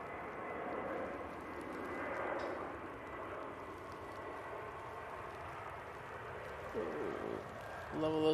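Airliner landing at Manchester Airport on a sunny day, a faint, steady engine roar rising and falling in the distance under quiet commentary.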